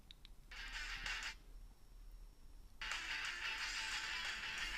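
Music plays from the small built-in speaker of a DZ09 smartwatch streaming over Bluetooth, thin and midrange-heavy, in two bursts separated by a short quiet gap, fairly faint and with no talking.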